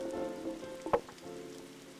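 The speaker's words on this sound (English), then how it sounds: "it's raining here in the experience. It's not in my home, in the real world, but that rain is somehow calming." Rain in the VR marble maze game Mark's Magnificent Marble Maze, a soft continuous patter with a low tonal hum beneath it and one brief louder tap near the middle.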